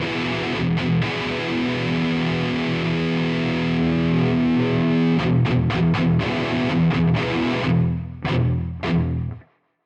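Electric guitar played through a Kuassa Efektor distortion pedal emulation, a thick, chunky sustained rhythm tone with loud, steady saturated chords, then a few sharp choppy stabs before cutting to silence.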